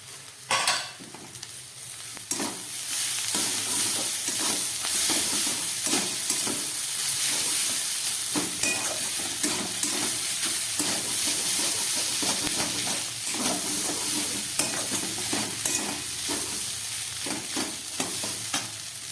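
Grated boiled potato and green chillies stir-fry in a pan with spices for a vegetable chop, giving a continuous close sizzle broken by frequent scraping and stirring strokes of a spatula.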